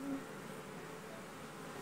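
Honey bees buzz steadily around an open top bar hive during a honey harvest, a soft, continuous hum heard close by with no talking.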